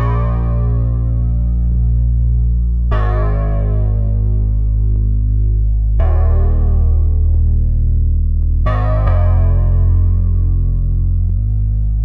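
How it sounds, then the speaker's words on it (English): Diva synth's HS Black Fuzz bass preset plays long, heavy fuzzy bass notes, four sustained tones changing pitch every few seconds, loud, thick and distorted, alone with no voices. "It is the HS Black Fuzz preset in the bass bank."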